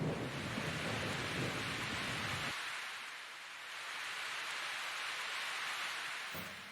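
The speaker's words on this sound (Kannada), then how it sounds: "ಕೆಲವೇ ಕ್ಷಣಗಳಲ್ಲಿ ಹಿಂದೆಂದು ಇಲ್ಲದ ಜೋರು ಮಳೆ ಸುರಿಲಿಕ್ಕೆ ಪ್ರಾರಂಭಿಸುತ್ತೆ" Dense, heavy rain roars continuously, with a deep low rumble like thunder in the first half that fades, then returns briefly near the end.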